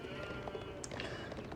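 Sheep in the strategy game Age of Empires 4 give short bleats amid busy game ambience and clicks, a couple of brief calls over a constant background.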